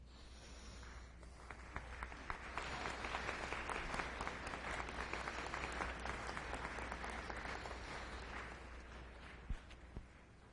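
Graduates at a Sault College convocation applaud their families, a sustained wash of many hands clapping in a large hall, fairly distant and steady for about ten seconds.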